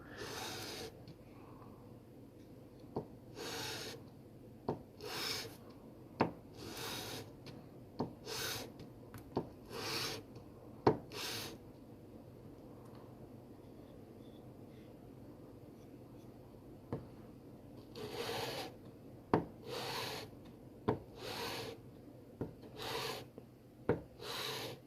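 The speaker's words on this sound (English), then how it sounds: "And I'm using a 220 grit sandpaper to start with." 220 grit sandpaper scraping a replica FN Five-seveN pistol compensator in quiet rhythmic strokes, each rasping pass short and close, with brief pauses in the middle.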